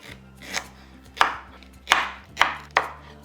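Five sharp knife chops cut through raw plantain on a cutting board at an uneven, unhurried pace, each a crisp thud with a brief ring, close and otherwise quiet.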